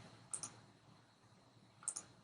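Two quiet, sharp computer mouse clicks about a second and a half apart while placing a block in gCADPlus CAD software, each a quick double tick over faint room hiss, with no talk.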